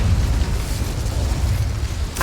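Incendio fire spell cast in the Hogwarts Legacy video game, a steady, loud low roaring rumble that holds for about two seconds with no voices over it.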